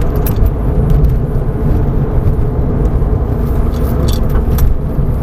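Porsche 911 with all-wheel drive on a track at Marcoussis, its engine droning steadily and loudly under light throttle and acceleration inside the cabin, with constant road rumble and no pauses.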